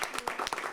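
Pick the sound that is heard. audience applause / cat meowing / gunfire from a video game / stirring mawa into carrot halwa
audience applause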